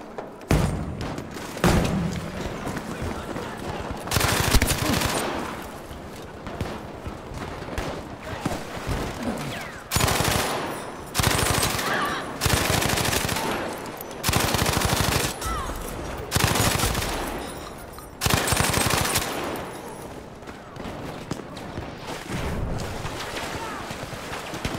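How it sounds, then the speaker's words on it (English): Shotgun fire in the World War II shooter Battlefield 5: heavy, booming blasts come in irregular clusters across a noisy battlefield, with short gaps for reloading between the loud bursts. "there's a better shotgun clip."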